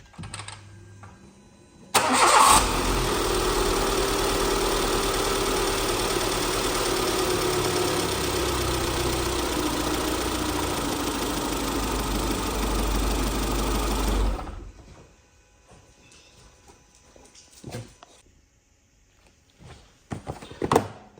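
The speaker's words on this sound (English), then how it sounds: "Start the car quickly just to check that it's running correctly." A Renault Modus 1.2 Turbo engine starts with a sharp crank and then idles loudly and steadily for about twelve seconds before being switched off, leaving quiet shuffling and faint handling noises.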